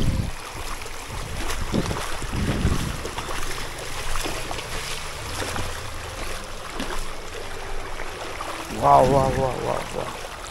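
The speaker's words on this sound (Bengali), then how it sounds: "কালীপুরে দেখো কি হারে বন্যার জল ঢুকছে" Floodwater flows into the village of Kalipur beside the Ganges in Nadia, a continuous rushing, gurgling wash with gusts of wind noise buffeting the microphone, rising briefly near the end.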